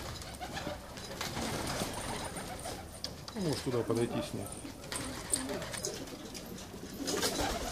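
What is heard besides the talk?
pigeons of a unique breed cooing in a dovecote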